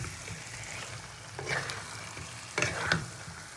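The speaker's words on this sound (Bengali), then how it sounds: "এবার চিকেন দিয়ে মশলার সঙ্গে খুব ভালো করে কষিয়ে নিতে হবে।" Marinated chicken sautés with ground spice paste in a hot pan, giving a steady close sizzle with a few louder stirring scrapes and crackles, no voices.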